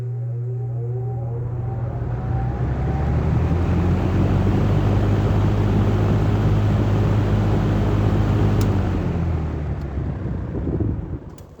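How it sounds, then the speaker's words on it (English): A 1971 Lakewood P23 Windsor metal-blade box fan starts up, its motor hum rising in pitch as the blades spin to speed into a steady, loud whooshing roar, close and alone. "It is a metal blade box fan."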